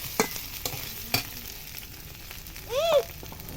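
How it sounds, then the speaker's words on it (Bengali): A spice masala with garlic, onion and cumin fries in oil, giving a soft sizzle while a utensil scrapes and stirs the pan in a few brief strokes, with no voices. "এবার আমার মশলাটা প্রায় কষা হয়ে গেছে, তেলটা ঝরে গেছে"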